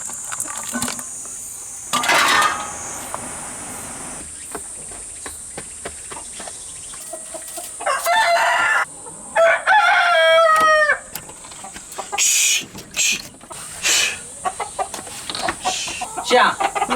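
Chickens being fed cluck and squawk while a rooster crows loudly, against a steady high buzz of crickets and insects; the calls come in bursts, close by.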